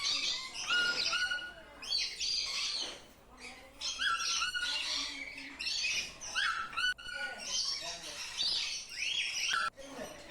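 A bird calls loudly and repeatedly at Peeku Park in Yercaud, giving sharp squawking, chirping phrases in quick bursts close by, with only brief pauses between calls.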